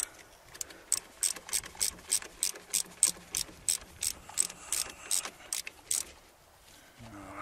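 A ratchet wrench tightens a front brake caliper bolt on a Renault Mégane, giving a steady series of about fifteen sharp, close clicking bursts in even rhythm, then a brief pause.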